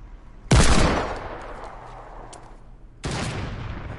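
A Desert Eagle pistol fires in a video game, two loud sharp gunshots with echoing tails about two and a half seconds apart, no talking over them.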